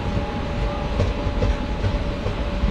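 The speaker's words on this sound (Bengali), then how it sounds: "এইগুলো হচ্ছে প্যাসেঞ্জার ট্রেন" A passenger train rolls past close by, its steady wheel rumble and rail clatter loud and continuous with a faint tonal whine riding over it, no voices.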